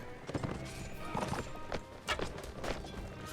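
Galloping horses in the Mount & Blade video game, a quick run of clip-clop hoofbeats in uneven bursts, fairly close and steady with a faint whinny, no voices over it.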